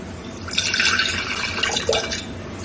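Water poured into a vessel during a Unitarian Universalist church service, a steady splashing trickle lasting a couple of seconds, close and fairly loud with no talking.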